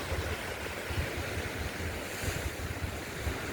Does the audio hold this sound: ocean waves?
yes